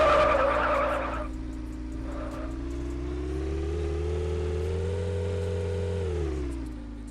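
Cybertruck in the Madout 2 driving game: a low, steady engine drone that rises and falls with revving and a long tire skid, close and alone, with no talk.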